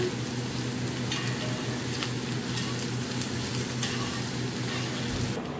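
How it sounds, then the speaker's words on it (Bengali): Onion and a little garlic sizzle steadily in hot oil for green chilli greens, a dense, continuous frying hiss close up with light stirring throughout. "তেল দিয়ে পেঁয়াজ সম্বার আর একটু রসুন দিয়ে দিতে মামুনি"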